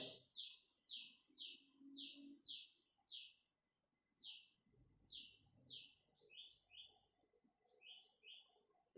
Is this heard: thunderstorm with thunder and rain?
no